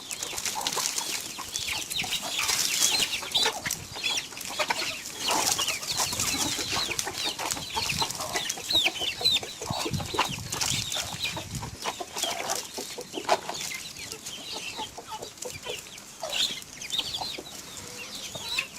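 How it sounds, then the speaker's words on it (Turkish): Chickens and chicks cluck together while eating chopped squash and onion, a steady busy chatter of many birds close by, with soft pecking and no talk. "Civcivlerimiz, tavuklarımız hep birlikte yiyorlar."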